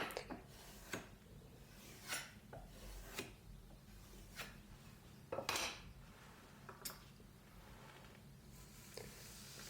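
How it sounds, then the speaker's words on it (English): Kitchen knife stroked along a leather strop in a workshop, a series of soft, quiet rubbing swipes spaced irregularly, with faint scraping between them and no talking. "sharpening the trusty old kitchen knife on the strop"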